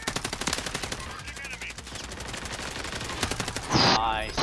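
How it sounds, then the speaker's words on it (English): Automatic gunfire in the video game Warzone rattles in rapid, evenly spaced bursts that fill the clip, with a louder blast near the end, close and dominant. "I'm being shot at quite hard behind you, from there."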